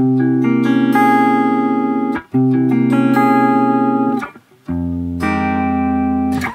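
Flat nine guitar chords ring out, each strummed with a quick arpeggiated attack and left to sustain; three or four chords in succession with short gaps between.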